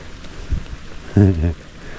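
Rain falls steadily on a tent and runs off it, making a constant close hiss with a few soft thuds, and a brief voiced sound rises in the middle.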